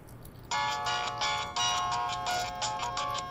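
A mobile phone rings with an incoming call inside a family home, its electronic tune repeating in short, evenly spaced bursts, fairly faint and with no one speaking over it.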